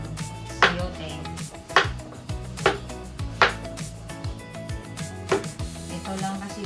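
Kitchen knife chopping chayote on a cutting board at home, five or six sharp, evenly spaced thuds about a second apart, close and clear over a faint background hum.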